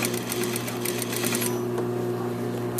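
A sewing machine edge stitches a suit collar in a continuous, fast, even rhythm of needle clatter, close and loud throughout, with no talking.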